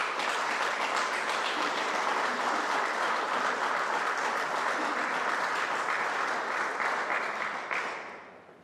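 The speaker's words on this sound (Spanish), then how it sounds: "eso realmente merece un aplauso" An audience applauds at a centennial event of the Huánuco Chamber of Commerce, steady dense clapping for about eight seconds before it fades out.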